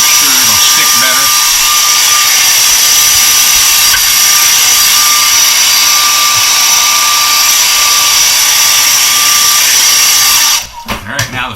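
A loud, steady high-pitched whine of a heat gun blows continuously, close up, while warming a vinyl graphic on a poly semi-truck mud flap for a Kenworth K100, cutting off abruptly near the end.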